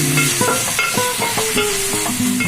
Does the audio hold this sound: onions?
yes